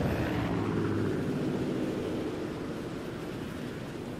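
Helicopter in the Far Cry 5 video game, a steady broadband rotor and engine roar that holds loud and constant, easing slightly over a few seconds with no voices over it.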